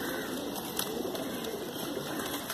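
Pigeons of a fancy breed kept by a breeder in Allahabad coo steadily and close by, a soft continuous murmur over a faint hiss with no one talking.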